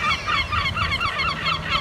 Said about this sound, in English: My friendly seagull